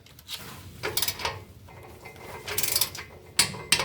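A torque wrench tightening header collector bolts on an engine, a few close, short bursts of ratcheting clicks and mechanical clatter separated by brief pauses.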